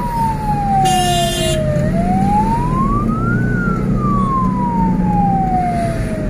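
A loud wailing ambulance siren sweeps slowly down and up in pitch, with a brief burst of horn blasts early on, over steady traffic rumble on a night road.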